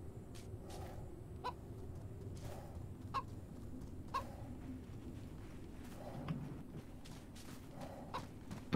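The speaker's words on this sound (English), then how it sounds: "There's a chicken out here." Chicken clucking in DayZ, a series of short repeated clucks at irregular intervals, moderately near and fairly quiet over low ambient background.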